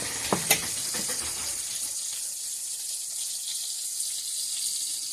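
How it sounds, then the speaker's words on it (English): Burgers sizzle on a nearby grill, a steady faint hiss running throughout, with a couple of brief knocks near the start and no voices. "there are burgers being cooked next to me"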